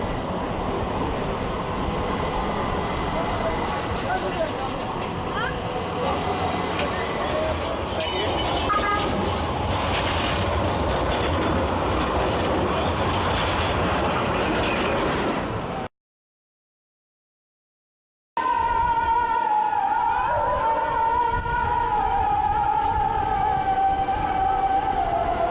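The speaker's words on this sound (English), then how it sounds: "we're now taking the tram" An Istanbul tram rumbling along the tracks with steady clattering and squealing wheels, a brief silent gap, then more rolling noise with a high metallic whine.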